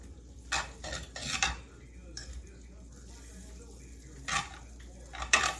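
Butter and flour are stirred into a roux in a pan, with bursts of metal utensil scraping and clinks against the pan over a quiet sizzle, separated by quieter gaps.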